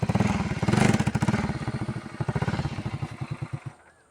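A motorcycle engine chugs nearby with a loud, rhythmic thumping pulse that gradually slows and weakens before cutting out, leaving near silence at the end.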